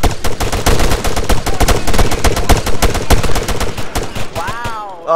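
Sustained rapid automatic gunfire from a video game executing a character pounds out loud and continuous for about four seconds, then cuts off as a brief warbling electronic tone rises at the end.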